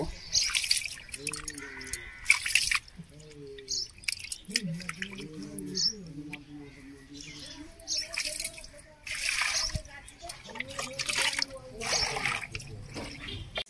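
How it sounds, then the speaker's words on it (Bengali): Tap water splashes and gurgles over pieces of chital fish being washed by hand, with irregular pouring and dripping sounds and someone speaking in a few short stretches. "চেথল মাছটা ভালো করে ধুয়ে নিচ্ছি পরিষ্কার করে জল দিয়ে।"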